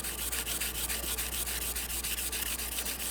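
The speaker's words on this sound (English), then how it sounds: "I'm just slowly walking it around by hand while I sand." Hand sanding of a carbon fiber grip with wet 150 grit sandpaper, a steady close rasping scrub in quick repeated strokes, heard alone.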